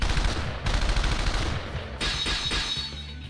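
Heavy artillery and gunfire in the video game P4AU crackle in dense, rapid bursts that keep up the whole time, loud and continuous with brief shifts in intensity.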